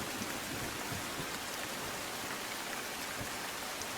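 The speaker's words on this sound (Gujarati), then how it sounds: "અમરેલીમાં લીલિયા પંથકમાં પણ સારો વરસાદ વરસી રહ્યો છે" Monsoon rain pours in the Lilia area of Amreli, Gujarat, early in the morning: a dense, steady hiss of heavy rainfall that fills the whole clip without pause and with no voices.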